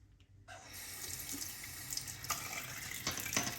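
Tap water runs steadily into a sink after a brief quiet start while a man wets his face mid-shave with a stainless steel safety razor, splashing with the continuous flow.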